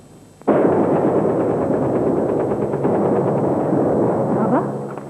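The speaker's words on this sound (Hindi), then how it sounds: "ये फायरिंग की आवाज कैसी है?" Sustained machine-gun fire in a 1994 Pakistani TV drama erupts abruptly after half a second and rattles on loud and dense for nearly five seconds, with no talk over it.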